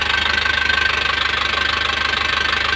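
A car engine idles steadily up close after sitting unused for four years, with a continuous rhythmic, slightly knocking pulse and a thin whine above it.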